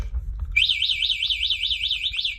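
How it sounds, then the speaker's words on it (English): A loud electronic alarm on a Maike SGT 11-inch 60-watt 42Ah unit starts after a brief pause and warbles steadily in a fast rising-and-falling siren pattern, close and piercing. "Alarm works."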